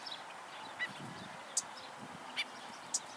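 Migratory birds at a lake park, including black-necked stilts, call in short bursts, with a few sharp honking notes standing out over a faint steady background.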